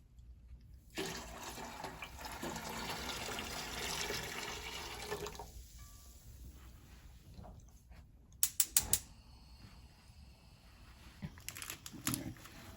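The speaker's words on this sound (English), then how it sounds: "Now I'm going to pour the milk." Homemade coconut milk poured into a cooking pot for Jamaican chicken soup: a steady liquid pour for about four seconds, then quiet, followed by a few sharp metallic clinks and knocks near the end.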